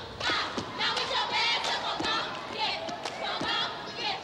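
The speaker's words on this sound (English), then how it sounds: "it was a chance to see some great basketball and cheer along one of their favorite groups" A crowd at a charity benefit basketball game cheers and shouts in loud waves, with sharp thuds of a bouncing ball cutting through.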